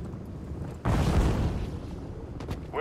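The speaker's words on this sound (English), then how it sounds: "Grenade out!" Grenade blast in Call of Duty: Modern Warfare III on the Skid Row map, one sudden heavy boom followed by a rumbling decay, with faint gunfire afterward.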